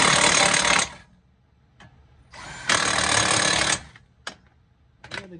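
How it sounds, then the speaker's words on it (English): A pneumatic impact gun rattles on car caliper bracket bolts in two long loud bursts, each about a second, with shorter sharp clatters of tools between them. "Now I'm gonna hit these with my gun because I don't play around when it comes to caliper bracket bolts."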